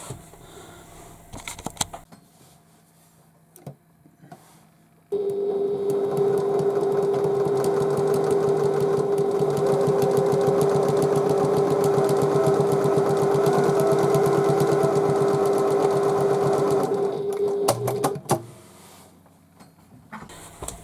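A sewing machine stitches a seam on a tote bag, running at a steady, even whir for about twelve seconds. Short handling noises come before and after the stitching.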